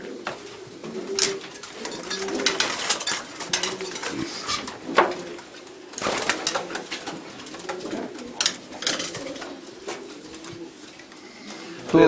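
A racing pigeon coos repeatedly inside a loft, low and near, mixed with scattered clicks and knocks from the loft.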